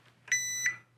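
A multimeter's continuity beep sounds while testing a cable on a Marshall JCM800 reissue amplifier, a sharp high-pitched electronic tone held about a third of a second, followed by the start of another, close and clear over a faint hum.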